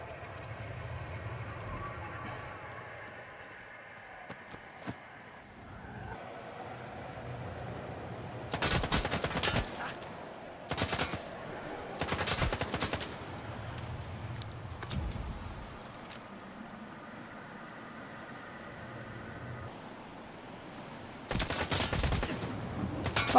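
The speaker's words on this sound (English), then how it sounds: "Is he shooting me through the fucking wall?" An enemy firing through a wall in the video game S.T.A.L.K.E.R. 2: several sharp bursts of automatic gunfire arrive in separate volleys, with quieter ambient stretches between them.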